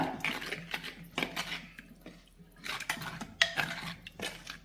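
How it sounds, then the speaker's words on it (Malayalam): A utensil scrapes and clacks against a pan in repeated close bursts, stirring a tamarind, chilli and water mixture for a mango curry. "വെള്ളം ഒഴിച്ചു കൊടുത്തിട്ട് നമ്മൾ നന്നായിട്ട് ഇത് മിക്സ് ചെയ്യുക"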